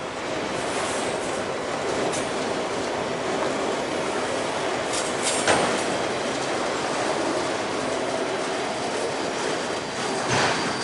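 A CN freight train rolls past a rural crossing on the Camrose subdivision north of Lamerton, Alberta, a steady loud rumble of railcars with rhythmic wheel clatter and occasional squeal, close and continuous with no voices.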